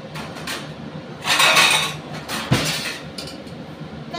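A lid set over a cooking pan gives a brief metallic clatter, followed by a single sharp clink, close by against a quiet kitchen background.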